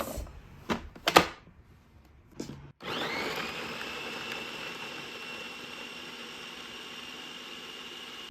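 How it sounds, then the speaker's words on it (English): A new food processor grinding carrots for a vintage heart cake: a few clunks and rattles as it is set up, then the motor starts and whirs steadily and loudly for the remaining five seconds, close up, with no talking. "I got this nice new food processor, so we are just going to grind this up in a matter of seconds"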